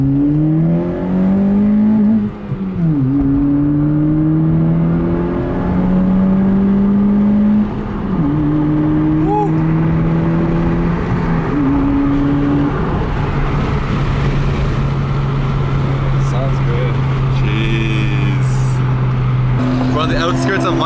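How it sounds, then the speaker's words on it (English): A car engine revs hard at high RPM, its pitch climbing and dropping in steps like gear changes. The engine drones loud and close throughout, with a sustained, screaming tone near the end. "Damn, this car sounds good at high RPMs."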